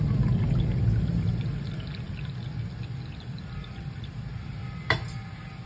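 Water pours steadily into a pot with a rushing, splashing sound that thins out, followed by a brief clink near the end; one cup of water added to sugar for syrup.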